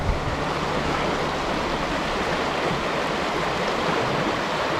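Continuous rushing water of a polluted, dirty river in Mysłowice, Poland, a dense steady broadband roar with no pauses, close by and fairly loud.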